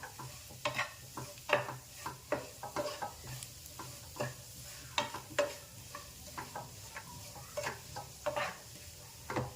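A spoon stirring a mashed potato mixture with salt in a bowl for rava dosa batter, a run of soft irregular scraping and tapping strokes, close and fairly quiet, with a faint background hum.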